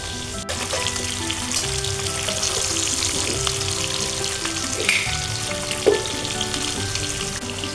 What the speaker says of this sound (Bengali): এবার আমি বাকি মাছগুলো ভেজে নেব।